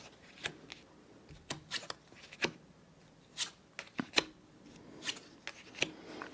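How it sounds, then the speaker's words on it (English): Playing cards are drawn and placed one at a time during a Monte Carlo matching solitaire game, each giving a crisp, close papery snap or flick, spaced irregularly against a quiet background. "now you can draw new cards from the stock"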